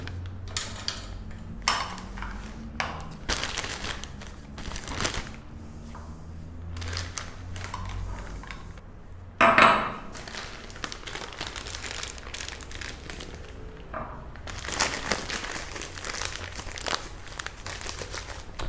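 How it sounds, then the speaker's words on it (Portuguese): Coloured ganache is scraped into a plastic piping bag, with a long stretch of close crinkling, rustling plastic and soft squelches, a louder crackling handful midway and a few light clicks, and no talking. "eu vou transferir para dentro de um saco de confeitar, porque a gente vai aplicar aqui na base desse bolo"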